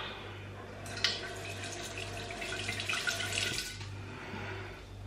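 Water streams steadily into a flower vase, a continuous splashing pour that builds slightly in the middle and carries on without voices.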